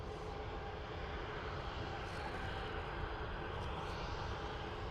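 Aer Lingus airliner taking off at Dublin Airport, bound for London, its engine roar a loud, steady, broadband rumble that holds unbroken throughout.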